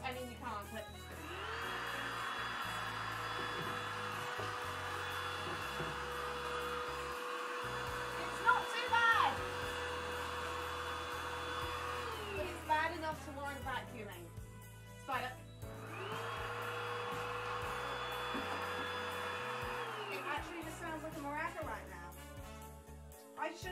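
An office vacuum cleaner, also used on a fireplace, runs in two long steady whining stretches with a brief stop between them, the motor pitch rising and falling at each start and stop, while a voice talks over it.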